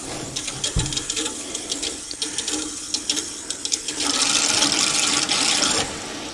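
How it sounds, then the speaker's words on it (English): Water rushing from the drain hose of a tankless water heater during installation, spluttering and gurgling at first, then settling into a loud, steady gush, close by and with no talking. "I can hear it busting guts out of the hose now."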